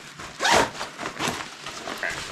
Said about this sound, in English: Zip it up first.